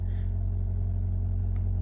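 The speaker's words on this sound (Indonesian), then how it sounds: "Kerasa nih suara dan getaran mesin itu kerasa banget masuk ke dalam ketika mesin ngecas baterai" A Toyota Yaris Cross Hybrid's petrol engine running to charge the battery, heard from inside the cabin as a steady, low droning hum with no talk.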